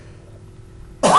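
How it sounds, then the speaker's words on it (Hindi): A man's single harsh cough bursts out suddenly near the end, close and loud after a stretch of near silence. "मैं काफ़ी देर से बोल रहा हूँ तो थोड़ी खांसी आ गई।"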